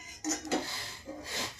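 A spoon stirs coriander seed tea in a cup, giving soft scraping and clinking strokes in a few short bursts, close and fairly quiet, with no talking.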